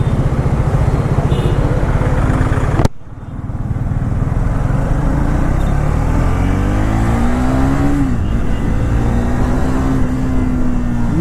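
Triumph Thruxton 400 motorcycle engine riding through city traffic, a loud steady single-cylinder drone with a sharp cut near three seconds, then rising and falling revs as the bike pulls away and shifts.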